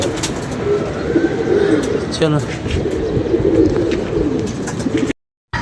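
Pigeons coo softly and repeatedly in the background while someone talks over them.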